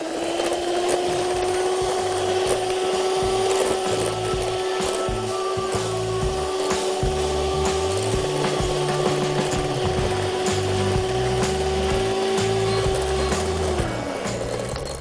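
An electric mixer beats yogurt batter for strawberry cupcakes, a loud, steady motor whir with a constant whine that runs unbroken before dropping in pitch as it switches off near the end.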